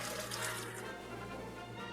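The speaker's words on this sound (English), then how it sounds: "run some cold water over them." Cold tap water runs into a colander of fries in a sink, a steady, close, continuous splashing stream with no talk over it.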